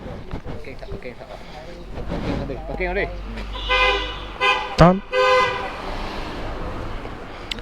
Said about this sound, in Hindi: गाड़ी का हॉर्न खतरनाक है।